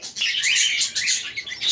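Pigeons flutter and call while eager for food, giving bright repeated chirps and wingbeats that come close and fairly loud across the short moment, with no talk.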